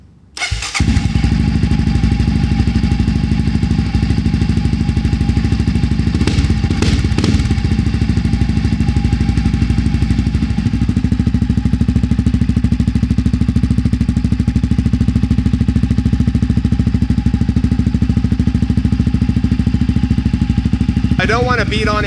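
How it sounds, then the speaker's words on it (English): A Toyota Land Cruiser 80 engine starts and settles into a loud, steady idle while still warming up, a continuous low rumble running unbroken close by. "just as it's sitting here idling, it is way louder than it was before"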